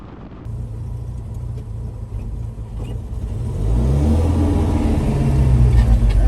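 A Datsun 620 drives along a road in Laos, its mid-range engine rumbling steadily up close and swelling louder partway through as it speeds up.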